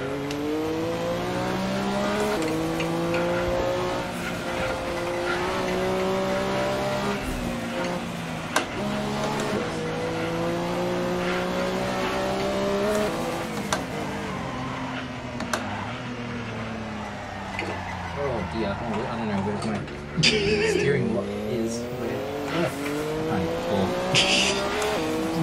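A racing car engine revs up and down on the Nordschleife in a VR direct-drive motion racing sim, with continuous shifting pitch, gear changes and occasional tire squeal, loud and steady throughout.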